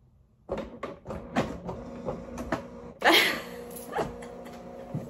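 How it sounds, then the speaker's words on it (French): A printer runs nearby, its mechanical clicks and whirring strokes coming in irregular bursts, with a louder rattling feed partway through. "devant mon imprimante. Comme vous pouvez l'entendre, vous êtes dessus. Et je regarde les feuilles sortir."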